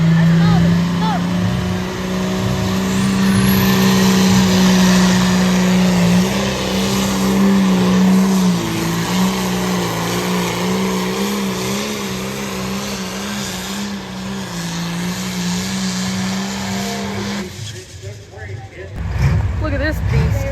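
A powerful tractor engine roars continuously at a tractor pull, loud and close with a deep sustained drone that shifts pitch slightly, then cuts off sharply near the end.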